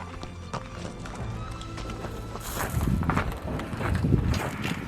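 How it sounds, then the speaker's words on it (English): Horses on a pack-in ride through Nevada's Ruby Mountains clop along with an uneven rhythm of hoof strikes, fairly close, with rustling and movement growing busier midway. "How's your steed"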